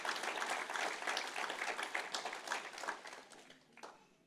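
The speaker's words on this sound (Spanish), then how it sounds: "aplausos al Señor en alabanza" A church congregation applauds in praise during a Spanish-language service, a dense, sustained roar of many hands clapping that stays strong for about three seconds and then tapers off into scattered claps.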